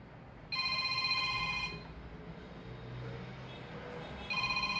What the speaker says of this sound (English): That must be your mobile ringing, Satish, please check.